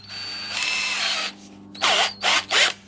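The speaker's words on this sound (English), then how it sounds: "I'm going to try the drill right now. So we're going to use this kind, the kind that drills big holes in wood." A Topshak TS-ED3 20V cordless electric drill with a large wood-boring bit whirs in one long run, then in three short bursts. The motor sounds close and loud, with no voices.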